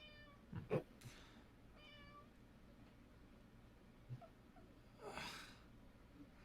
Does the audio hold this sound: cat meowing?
yes